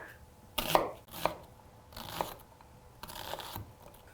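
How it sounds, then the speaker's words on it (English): A knife halves and chops an onion with its root kept intact, giving four or five separate crisp cuts spaced unevenly, close and fairly quiet, with no talking. "And now we can get to chopping."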